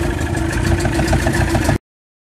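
An old 1980s boat engine idles nearby with a steady, loud mechanical rumble and rapid pulsing, then cuts off abruptly into silence.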